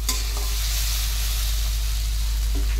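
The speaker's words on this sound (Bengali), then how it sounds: "এখানে এই যে আলু ভাজা বসিয়েছি" Potatoes frying in a home kitchen pan give off a steady, close, even sizzle and hiss that runs the whole time with no voices, and one or two faint clinks near the start and end.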